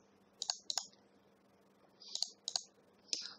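Sharp computer mouse clicks come in quick pairs, three distinct double-clicks spaced apart against a quiet background.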